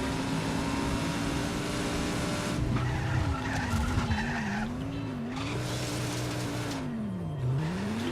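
A video-game car drifts with a long, wavering tire squeal over a loud engine drone, skidding continuously and close.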